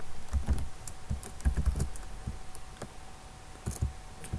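Keys clatter on a computer keyboard as PHP code is typed, a close sequence of quick clicks in short bursts separated by brief pauses.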